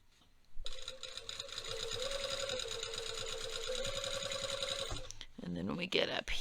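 A sewing machine stitches a trouser back welt pocket through a single layer, running in one steady, close, continuous burst for about four and a half seconds before stopping, with brief handling noises afterward.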